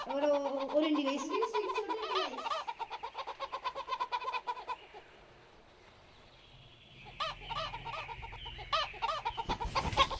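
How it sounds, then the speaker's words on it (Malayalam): Clucking chicken in a Roblox game, with repeated short clucks and calls early on, then quieter stretches and a later burst of clucking; no one speaks. "അതേ കോഴിയുണ്ട്"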